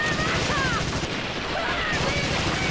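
Gunfire and crashing impacts from the PS2 game Medal of Honor: European Assault sound in a loud, dense burst of shots and blasts with no clear speech over them.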